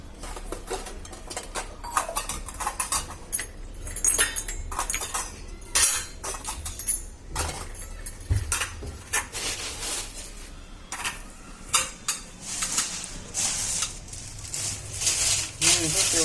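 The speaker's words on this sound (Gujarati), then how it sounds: "ઝીણી ઝીણી વાટકી છે. ભગવાનના વાસણ બતાવી દે." Small metal bowls and utensils for a deity's food offering clink and rattle in a home, a series of light close taps and chinks scattered through the whole stretch over a faint low hum.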